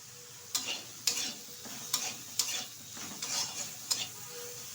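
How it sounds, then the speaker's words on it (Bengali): Eggplant frying in oil in a pan with a soft steady sizzle, broken by about nine sharp scraping clicks as a utensil stirs it at an uneven rhythm. "বেশ কিছুক্ষণ বেগুনটা তেলের সাথে নেড়ে চেড়ে নিয়েছি।"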